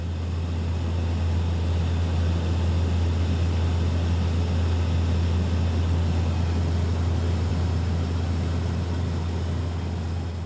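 A steady, loud engine drone with a deep hum fills the cabin during a five-hour flight over Antarctica's polar plateau, unbroken and with no voices.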